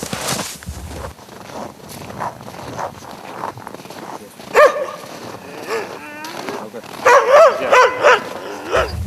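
Village dogs bark and yip in short bursts among nearby voices and footsteps, with a few louder, closer barks near the end.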